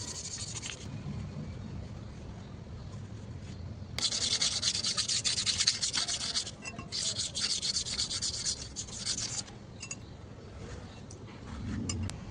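Sandpaper is rubbed by hand over the surface of a Tata Nano brake drum in a repeated, close, raspy back-and-forth scrubbing that grows denser in the middle, with brief pauses and no speech.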